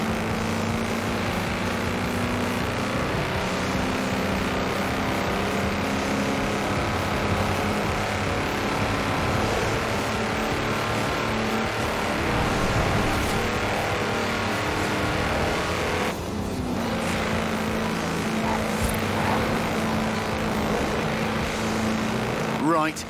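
A farm tractor on 4-inch mud tyres races flat out in Forza Horizon, its engine holding a loud, steady roar throughout with only a brief dip partway, while someone talks over it.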